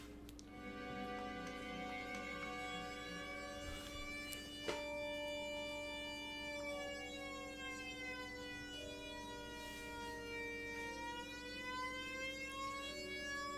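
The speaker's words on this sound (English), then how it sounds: "That's because that siren is annoying, to say the least." A wailing alarm siren in the video game Final Fantasy VII, loud and continuous with layered rising and falling tones sweeping over a steady drone.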